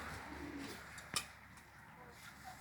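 Homing pigeons cooing on a rooftop under dull weather: soft, distant coos are barely audible in a steady outdoor hush, with one sharp click near the middle.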